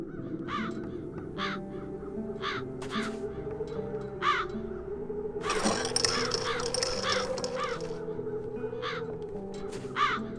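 Crows caw repeatedly in a video game scene from The Dark Eye: Chains of Satinav, sharp rasping calls spaced through the clip over a low ambient music bed, with a brief mechanical rattle midway.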